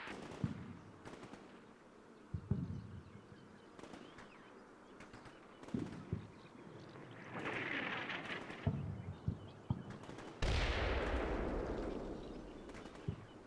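Artillery bombardment in a military video game, with a series of heavy booms and cracks spread over several seconds and long rushing blasts of explosions rolling out, mid-distance and fairly loud.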